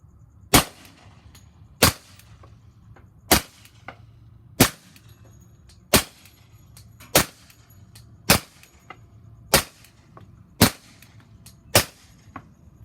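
An HK45 pistol firing Black Hills 230 grain full metal jacket rounds at a steady slow pace gives eleven sharp, loud, separate shots, each a crisp crack with a short decay, with quiet between.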